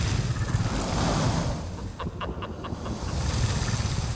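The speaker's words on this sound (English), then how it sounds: "Listen to the water." Surging water waves from a scene in the Harry Potter film Order of the Phoenix, a steady broad rush swelling and receding throughout, with a brief patch of crackling bursts in the middle.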